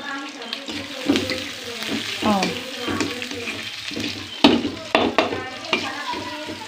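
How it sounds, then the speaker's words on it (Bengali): Onions frying in an oil-filled pan in a home kitchen, with steady sizzle, stirring scrapes and utensil clinks, a few sharp knocks, running water at times and a faint voice in the background. "পেঁয়াজ ভেজে নিচ্ছি"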